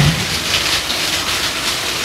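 Steady rain keeps falling under an overcast sky, a close, continuous hiss of drops with no break and no voices.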